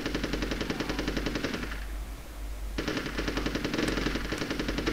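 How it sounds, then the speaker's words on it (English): Machine gun fire in the Army Men: Sarge's Heroes video game, rapid continuous bursts with a short pause in the middle before firing resumes, steady and loud over a low game hum. "Alright, this is machine gun time."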